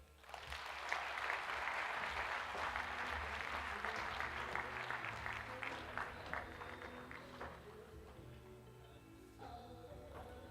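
An audience at a scholarship fund's tenth anniversary celebration gives sustained applause, many hands clapping steadily at moderate distance and slowly thinning toward the end, with a low hum underneath.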